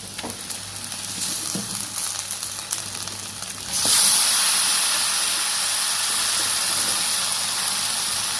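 Chicken pieces for a chicken curry drop into hot oil beside reddened onions. After a quieter stretch of frying, the sizzle bursts up loud and close and then holds as a steady hiss to the end, with no talking.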